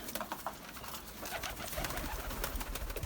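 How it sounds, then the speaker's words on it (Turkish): Pigeons coo inside a coop, a steady overlapping chorus of soft, rolling coos that continues throughout, fairly close, mixed with faint rustling and background noise. "Diyarbakır'ın isimli kuşları bunlar"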